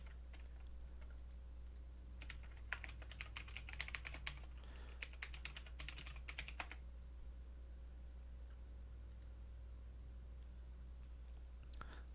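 Quick bursts of computer keyboard typing come as an email login is entered, soft clicky keystrokes in two clusters over a steady low room hum, then quiet.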